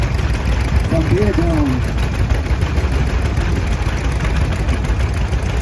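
An antique John Deere D tractor pulling a two-bottom plow in a parade at an antique tractor and steam engine show runs with a steady low, pulsing engine note, while an announcer speaks over it.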